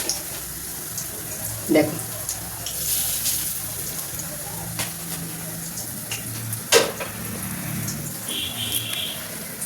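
Drumstick flower fritters fry in hot oil with a steady, moderate hiss and a few soft clinks, while a voice speaks briefly over the sizzle.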